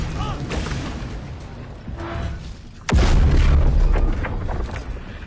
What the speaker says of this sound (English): Did you all see that bomb did 3 damage?